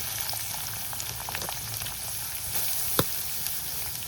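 Garlic and onion frying in hot oil in a kadai, a steady close-up sizzle with soft crackles and a few stirring clinks, one sharp utensil knock standing out near the end.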